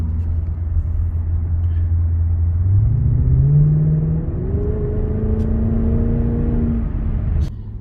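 Lexus LS460 with automatic transmission accelerating from a cruise, a low engine rumble that jumps in pitch as it downshifts, rises, then steps again before easing off, heard from inside the car.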